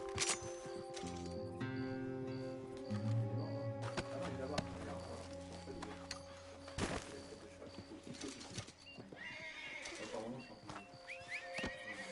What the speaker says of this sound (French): Mon cheval.